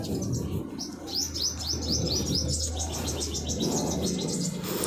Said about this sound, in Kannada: ಹಕ್ಕಿಗಳ ಚಿಲಿಪಿಲಿ ನಾದ ಇದೆ